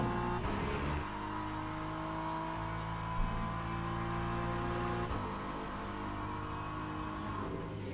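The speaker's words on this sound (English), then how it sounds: "Hypercar is passing through." A hypercar in Le Mans Ultimate, racing at Fuji, roars past with a loud droning engine note that shifts pitch as it passes, followed by another engine surge near the middle, with no voices.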